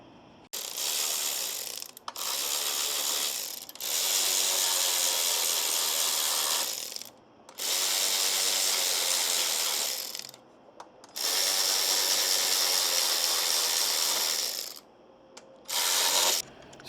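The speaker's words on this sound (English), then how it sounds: "I had to go and tighten these with the wrench afterwards" A ratcheting wrench tightens hex head bolts on the battery mount of a Ride1UP REVV-1 e-bike, long bursts of loud, close, rapid clicking with short pauses between, no talking.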